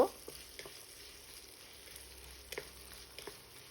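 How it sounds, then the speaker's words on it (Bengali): Onions frying in a pan for beef liver bhuna, a soft, quiet sizzle with occasional light stirring taps and scrapes, fairly faint and close. "এখন পেঁয়াজটা কিছুক্ষণ নানবো এটা লাল করব না"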